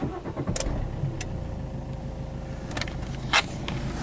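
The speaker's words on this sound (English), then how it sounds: "I will start the car and put all the lights on." An Opel Corsa D car engine starts up nearby with a brief crank and catch, then settles into a steady idle with a couple of sharp clicks.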